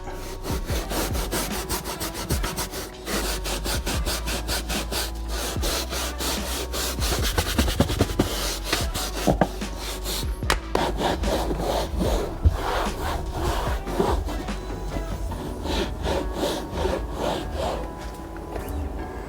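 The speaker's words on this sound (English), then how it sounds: "grab the upholstery cleaner, grab our scrubbing brush" Stiff scrubbing brush worked back and forth over a brown coffee stain on a car's carpet with upholstery cleaner, a loud continuous rasping scrub with rapid strokes, close and without talk.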